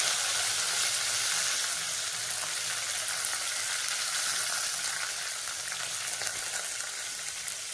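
Cumin seeds and green chillies fry in hot oil with a loud, steady, dense crackling sizzle that continues throughout without pause.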